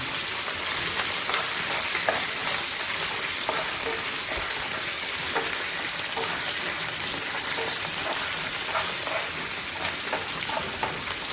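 Mustard seeds and curry leaves frying in sesame oil for mango pickle: a loud, continuous crackling sizzle with dense popping throughout, and no voices.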